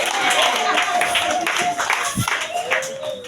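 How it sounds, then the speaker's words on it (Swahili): Church congregation clapping for Jesus during a worship service, a dense continuous burst of hand claps filling the room, mixed with voices and shouting throughout. "pigia Yesu makofi"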